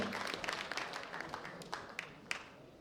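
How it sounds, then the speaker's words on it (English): Faint, thinning applause from the audience at the World Bench Press Championships, with distant clapping and a few sharper isolated claps fading out, under a murmur of voices. "big round of applause for these three fine gentlemen"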